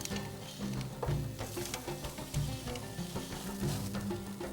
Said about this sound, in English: Kebab is cooked from both sides.